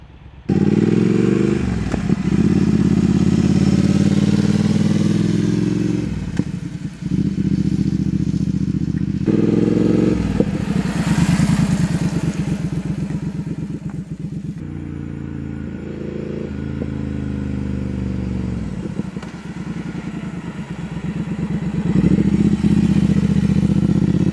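A Triumph Speed Twin or Kawasaki Z900RS fitted with non-stock aftermarket exhaust pipes runs loud and close, its engine rumbling steadily with several revs rising and dropping throughout.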